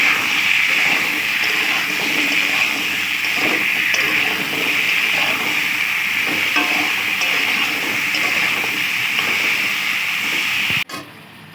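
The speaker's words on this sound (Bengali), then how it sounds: "আলুটা ভালো করে নেড়ে দেবো, একটু নুন দিয়ে ভালো করে ভেজে নেবো এটা।" Potatoes frying in oil with salt give a steady, loud sizzling hiss that holds evenly for about eleven seconds, then cuts off with a brief clatter at the end.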